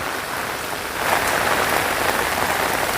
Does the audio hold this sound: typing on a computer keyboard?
no